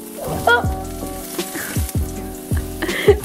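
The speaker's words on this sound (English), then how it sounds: "Oh! Stir fry." Vegetables and noodles sizzle loudly in a hot pan during a stir fry, with a steady frying crackle broken by repeated stirring scrapes close by.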